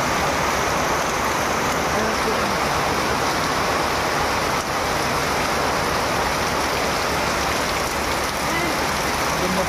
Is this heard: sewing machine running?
no